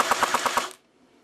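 A T3 .30 cal airsoft gun fires a short burst of about five evenly spaced, fairly slow mechanical shots of BBs, close and loud, then cuts to near silence.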